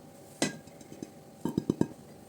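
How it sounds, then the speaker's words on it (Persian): Dried vegetable soup powder ingredients, with parsley added, stirred together in a bowl, several light clinks and taps of a utensil against the dish, a single one then a quick cluster, quiet and close. "کاملا مخلوط میکنم"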